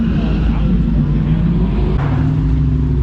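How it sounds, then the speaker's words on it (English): Twin-turbo drag racing pickup truck from Bullock Racing with wide tires and wheelie bars, its engine giving a loud, low, continuous rumble that surges slightly partway through. "Wow, twin turbo power. Look at that."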